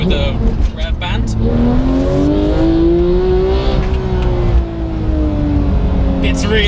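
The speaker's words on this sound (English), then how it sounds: "as soon as you open it up a notch and you get it up through the rev band" Porsche 991 GT3 fitted with a Sharkwerks bypass exhaust revving up through the rev band, a loud close engine note climbing steadily and then easing off, with a brief bark at the start.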